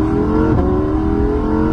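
A Lamborghini Huracan Evo accelerates with a loud, close engine note that climbs, then dips briefly as it shifts into second gear and pulls on, filling the short moment with continuous engine sound.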